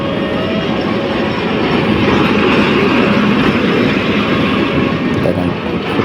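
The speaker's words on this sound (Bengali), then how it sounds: "ট্রেন আসতেছে আর একটা" At the Jurain railway crossing, a train passes close by with a loud, steady rumble and continuous wheel clatter that holds at full strength throughout.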